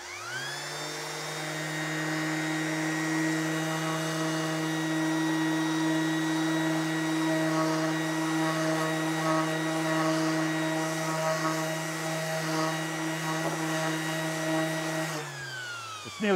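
A power sander runs steadily on a reclaimed wood toolbox, a loud, even whine with a low hum that holds for about fifteen seconds before spinning down, with no talking.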